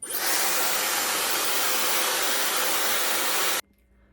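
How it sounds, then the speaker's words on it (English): A hair dryer fitted with a diffuser blows continuously and loudly at close range as it hovers over curly hair, then cuts off abruptly near the end, leaving quiet room tone. "hover diffusing is when you basically hover the diffuser over your hair like so"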